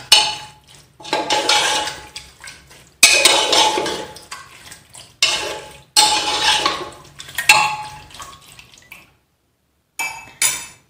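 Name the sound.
stirring curry in metal pot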